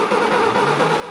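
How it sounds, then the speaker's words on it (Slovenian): A TAM 5500 truck's diesel engine runs rough and uneven, then abruptly cuts out into near silence at the end. "je motor začel kašljati in naposled ugasnil"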